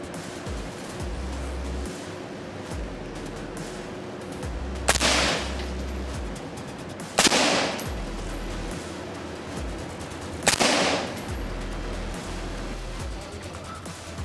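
Gunshots fired at an armored vehicle door, 9mm and 5.56 rounds, three sharp loud cracks spaced a few seconds apart over steady outdoor background noise.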